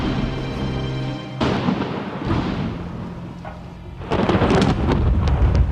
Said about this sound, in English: A cumulonimbus cloud, a breeding ground for lightning, thunder, and hail.